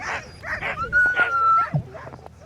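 Sled dogs at a dog-sledding kennel give a quick series of eager yips, barks and whimpering whines, close and lively, one overlapping another.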